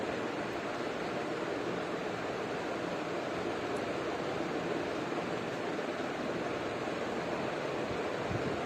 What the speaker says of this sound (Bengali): কচু কিন্তু খুব ভালোভাবে ভেজে নিতে হবে